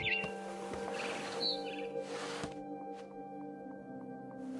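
Bright barn swallow chirps in the video game What Remains of Edith Finch come in quick bursts early on over a steady synthetic hum and drone, then fade out while the backdrop keeps going.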